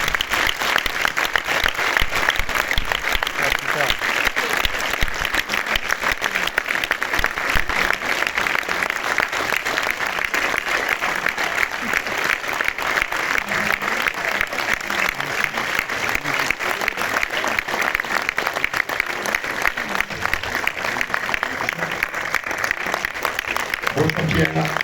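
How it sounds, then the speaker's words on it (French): Warm, sustained applause from a cinema audience greeting a film's director and actors, dense steady clapping from many hands lasting throughout without a break. "je vous demande d'applaudir très chaleureusement l'équipe du film"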